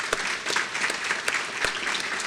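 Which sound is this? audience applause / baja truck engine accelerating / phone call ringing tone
audience applause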